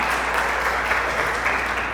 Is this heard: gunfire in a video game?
no